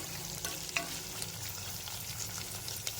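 Onion and mixed vegetables frying for upma in a pressure cooker, a steady close sizzle with light crackles and a few faint stirring scrapes, no voices.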